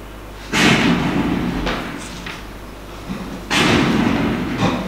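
Two heavy, booming blasts of an improvised 'hell cannon' firing in the Syrian war, a few seconds apart, each loud and rumbling before fading into background noise.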